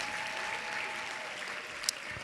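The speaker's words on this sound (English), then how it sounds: "Give her a round of applause" Audience applause during a keynote address, a steady, soft, distant patter of many hands clapping that is sustained throughout, with one brief sharp clap standing out near the end.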